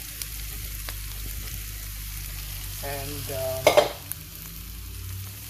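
Steady sizzle of onions frying in a pan, with a louder burst of hissing and clatter near the end as bitter gourd (karela) is tipped in and stirred, then the frying settles again.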